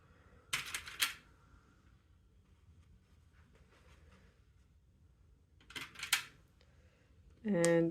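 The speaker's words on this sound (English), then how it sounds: "We will do little tiny little notches, little snips." Scissors snip notches into zipper tape for a crossbody bag in two quick pairs of crisp cuts, fairly close but quiet, over a faint room hum, with a short higher tone at the end.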